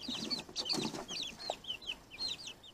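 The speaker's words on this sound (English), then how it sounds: "Hey, little chicken. Come here." Backyard coop chickens cluck softly and close by, mixed with bright repeated high peeps and chirps throughout a short stretch, with no talking.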